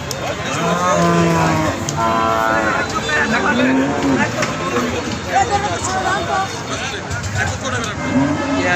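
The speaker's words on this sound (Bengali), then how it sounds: "হাজার হাজার গরু" Loud, close cattle moos sound again and again at a crowded cattle market in Bangladesh, some long and wavering, over constant crowd noise, with a voice speaking at times.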